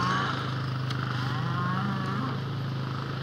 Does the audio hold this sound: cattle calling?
yes